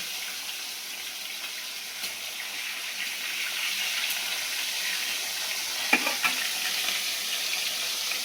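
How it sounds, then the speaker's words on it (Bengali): Fish frying in plenty of hot oil, a steady dense hiss of sizzling close by, with a couple of brief sharper pops near the end. "এবার এই যে মাছগুলো দিয়ে দেবো। তেল প্রচুর পরিমাণে গরম হয়ে গেছে"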